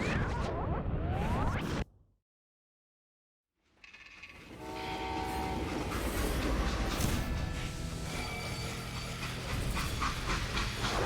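A train running in Call of Juarez Gunslinger: loud clattering, rumbling rail noise that cuts to near silence for about two seconds, then returns with a rising roar and steady rolling clatter.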